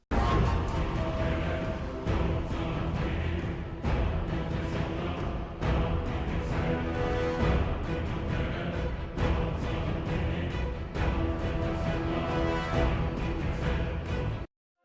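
Warcraft video game music plays dense and loud, a full band or orchestral texture with driving percussive hits and a steady rhythmic pulse, continuous without talking.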